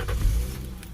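A 1998 Lexus GS300 engine cranks and catches, settling into a steady, close low rumble with a brief rise in the first half second.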